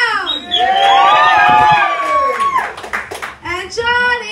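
Audience applause for a roast battle comedian at Scotty O'Boyle's in Meriden, Connecticut, loud clapping and cheering from a small crowd. It runs under a host's voice over a PA and shouts from the room.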